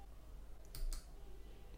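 A computer mouse clicks twice in quick succession, close and crisp, as an eject button in software is pressed, set against a steady background hiss.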